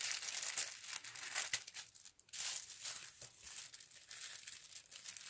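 Tissue paper crinkles and crumples close up in bright, rustling bursts, with a brief lull midway before the crackling handling resumes and carries on to the end.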